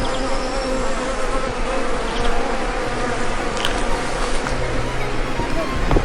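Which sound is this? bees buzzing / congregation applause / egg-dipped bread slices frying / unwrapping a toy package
bees buzzing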